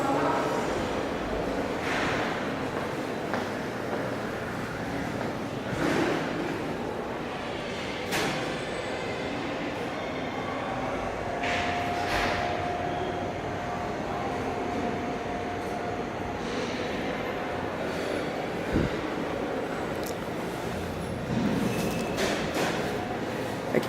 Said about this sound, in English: We're gonna go back up on these elevators.